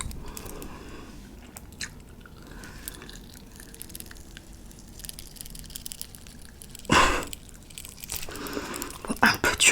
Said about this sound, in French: C'est très très dur à croquer.